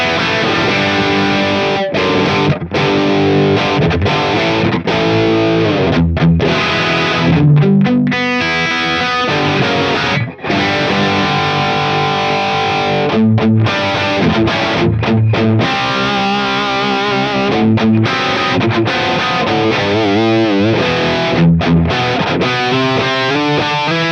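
Distorted electric guitar through a Black Les Paul fitted with a PT100 pickup, playing a dense, continuous riff with heavy saturation and fast picked passages, loud and close with no talk.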